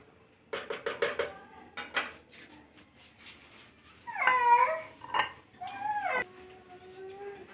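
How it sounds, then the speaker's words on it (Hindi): Metal utensils clatter in quick bursts against a pan as fried brinjal pakoras are lifted out, followed by sparser clinks and some tonal voice-like sounds, close and fairly quiet. "बैंगन के पकोड़े हमारे फ्राई हो गए हैं, इनको निकाल लेंगे।"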